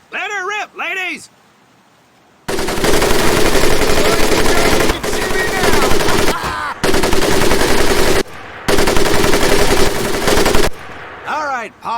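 Mounted machine gun fire in the Medal of Honor: Pacific Assault training camp roars in several long, loud sustained bursts separated by short pauses, after a brief spoken line at the start.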